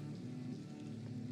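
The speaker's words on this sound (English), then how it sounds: "It's raining." Steady rain falls in the Vampyr video game, a continuous even hiss of drops on surfaces that holds at a constant moderate level throughout with no voices.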